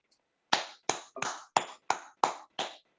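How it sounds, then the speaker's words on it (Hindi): Hands clap in a quiet room after a meditation session, seven crisp, separate claps in an even rhythm, fairly close and with nothing else audible around them. "तालियां बजाइए अच्छे ध्यान के लिए।"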